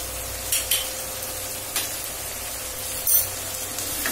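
Pointed gourd fries with salt and turmeric in a pan, giving a steady soft sizzle broken by a few scraping stirs and clinks of a utensil against the pan.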